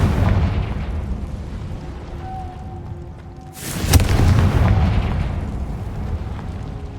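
A Confringo fire spell in the video game Hogwarts Legacy bursts into one loud, close explosion midway through, rising out of a continuous rumbling game backdrop before fading into a sustained roar.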